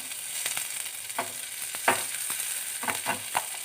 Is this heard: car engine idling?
no